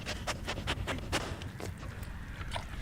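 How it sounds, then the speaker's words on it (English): A conservation dog at a nature preserve sniffs and pants in quick rhythmic bursts while searching for a treat, close and fairly loud, with no talking. "That sniffing you hear is Tilia, the conservation dog at Mequon Nature Preserve"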